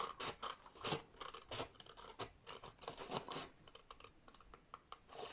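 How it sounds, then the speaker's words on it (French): Scissors snipping through paper while trimming the excess off a handmade floral gift envelope, a quick run of crisp close-up cuts with brief pauses between strokes. "Et là, pareil, je coupe tout ce qui dépasse"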